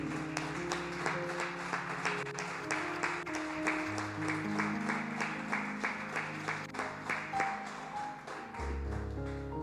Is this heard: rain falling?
no